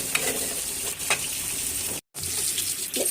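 Spices frying and being stirred in a pan while cooking a snakehead fish curry with potatoes and spinach: a steady close sizzle with scraping stirs, a short silent gap midway, no talking.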